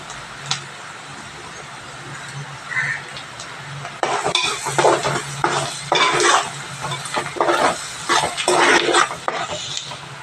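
Onions frying in a pan as turmeric is added, a low sizzle at first, then louder stirring with scraping and clinking of a spoon against the pan in bursts.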